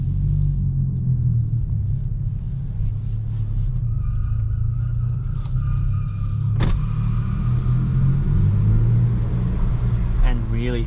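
A Hyundai i20 N with a 1.6-litre turbocharged engine and six-speed manual gearbox drones steadily from inside the cabin on a night drive, a heavy low rumble with road noise and a brief sharp click partway through.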